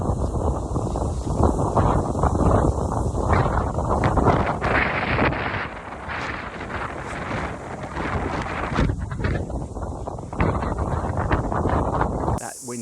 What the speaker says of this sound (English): Wind's definitely started to pick up again.